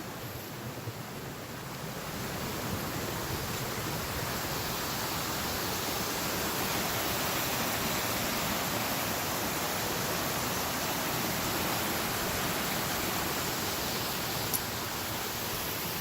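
Clipper Creek flows past as an even, steady hiss of running water that holds for the whole stretch, moderately close, with no talking.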